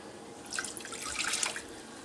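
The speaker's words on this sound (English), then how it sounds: "Now we're gonna quickly pour in the rest of the milk." Milk poured into a hot pot for Nutella hot chocolate, a short soft splashing trickle with faint sizzle that swells and fades over about a second, alone without talk.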